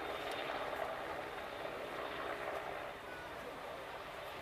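A Merlin helicopter flying over a Royal Marines beach assault display at an air festival, a steady, fairly distant rotor and engine drone mixed with crowd and outdoor noise.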